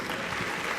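Brief burst of audience applause for a poet at a literary event, a soft, even clatter of clapping hands heard at a distance.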